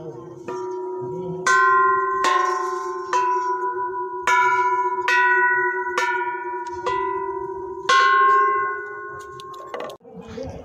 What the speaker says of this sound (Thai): นี่นะคะมีระฆังให้ตีนะคะ